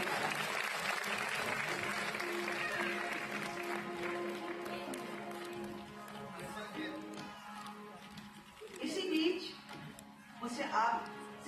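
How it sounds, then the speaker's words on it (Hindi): Audience applause at a music concert in Chandigarh, strong at first and then thinning into scattered clapping, with a voice talking and some louder bursts of crowd noise near the end. "एक बार जोरदार तालियां तो बजाइए क्योंकि कार्यक्रम शुरू होने वाला है।"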